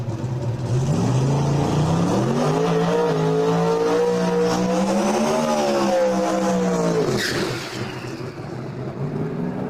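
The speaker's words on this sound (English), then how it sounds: "A little better burnout that time." A twin-turbo no-prep drag racing car doing a burnout at New England Dragway, engine roaring and climbing in pitch over several seconds with screeching tires, then cutting off abruptly and leaving a fading rumble.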